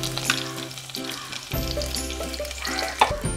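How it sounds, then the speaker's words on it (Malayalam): Chopped shallots hit hot oil with spluttering mustard seeds for a spinach chicken curry, and the frying hiss swells loud and steady while small pops crackle through it up close. "അതിലേക്ക് നമുക്ക് ചെറിയ ഉള്ളി അരിഞ്ഞിട്ട് ചേർത്ത് കൊടുക്കാം."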